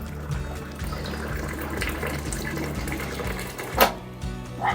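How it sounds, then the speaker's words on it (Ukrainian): Hot water runs steadily from the tap of a ViO x62-FCC water cooler into a cup, a continuous close pouring and trickling that fills the cup, with a brief louder splash near the end and no talking. "треба тримати краник, поки треба вам, щоб водичка текла"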